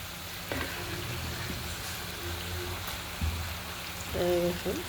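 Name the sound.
fish frying in cooked spice paste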